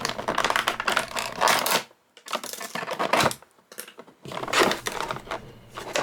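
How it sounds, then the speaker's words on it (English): Plastic zip ties being snipped and pulled off a packaged action figure, heard as a dense run of sharp clicks, snaps and crinkling plastic in close bursts separated by brief pauses. "let's clip him out of his zip ties"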